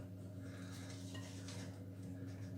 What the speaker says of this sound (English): Give it a nice good old stir.